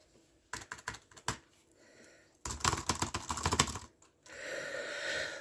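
Bursts of typing on a computer keyboard, with rapid clustered keystrokes separated by short pauses and then a faint wash of background noise, close and without speech.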